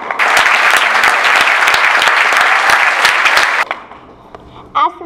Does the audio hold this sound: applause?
yes